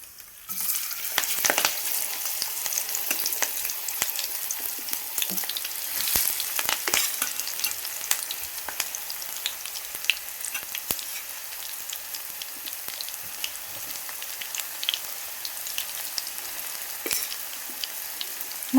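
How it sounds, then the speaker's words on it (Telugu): Okra dropped into hot oil for deep frying in a kadai, a dense crackling sizzle with rapid popping like rain, steady and close throughout. "మనకి ఇప్పుడు బాండీ అయితే పెట్టుకుని ఆయిల్ డీప్ ఫ్రై అవుతుంది. ఇప్పుడైతే మనము బెండకాయలు వేసుకుందాం."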